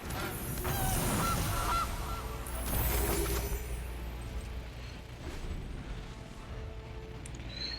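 A cartoonish goose honk plays as the Gilded Goose card is cast in the Magic digital card game, a brief bright honk over a dense, loud wash of game music and effects.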